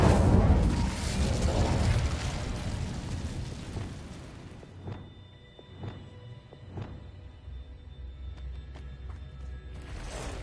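A fiery spell burst in Hogwarts Legacy: a loud, dense roaring blast for about four seconds, then quieter crackling pops and sharp flickers that trail off.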